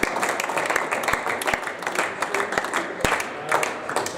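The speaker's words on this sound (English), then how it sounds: "So big round of applause for Dougie, please." Audience applause at an indoor bowls club prizegiving, a steady spread of clapping lasting several seconds with sharper individual claps popping out, heard over a background murmur of voices.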